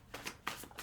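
A deck of Archangel Power tarot cards being shuffled by hand, with several brisk riffling bursts in quick succession, close and fairly quiet.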